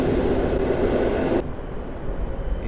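Passenger rail wagons, including half-wagons, roll past at Warszawa Centralna station in a steady, loud broadband rumble that drops off sharply partway through as the last car clears, leaving a quieter low station hum.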